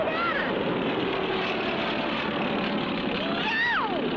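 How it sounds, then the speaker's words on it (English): A propeller airplane roars close and steady throughout, swelling with a rising whine near the end as it sweeps past, with cartoon sound effects mixed in. "It's a plane coming straight at us!"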